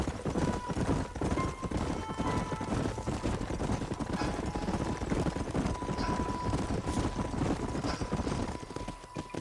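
Horses clip-clop steadily at a trot with an occasional whinny in a Red Dead Redemption frontier ride, hooves continuous and fairly loud across the whole stretch, with distant gunfire-like bursts in the background.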